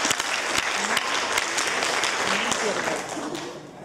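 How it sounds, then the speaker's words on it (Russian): Audience applause at a vocal battle contest in Novorossiysk, a steady wash of clapping from a sizeable crowd that holds strong throughout and tapers slightly at the end. "И наши аплодисменты"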